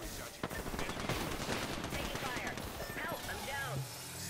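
Rapid automatic gunfire from a shooter video game rattles in dense bursts, with voices talking over the shooting.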